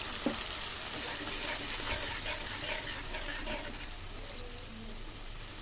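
Water poured into a pan of sizzling hilsa fish curry, a steady broad hiss and bubbling with faint stirring clicks throughout, continuous and fairly close.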